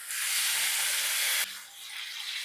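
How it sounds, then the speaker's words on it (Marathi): Water poured into a hot tempering for methi pithla hisses with a loud, steady sizzle that drops off abruptly partway through and continues as a softer hiss. "2 वाट्या पाणी आपण फोडणीत घालतो."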